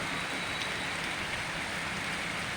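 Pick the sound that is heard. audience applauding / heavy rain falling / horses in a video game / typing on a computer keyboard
heavy rain falling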